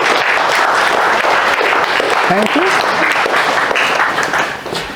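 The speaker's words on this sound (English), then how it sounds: "would you give a big round of applause to Will Fitch" An audience at a nature reserve talk applauds the speaker, a steady, full round of clapping from many people, with a brief spoken thank-you near the middle.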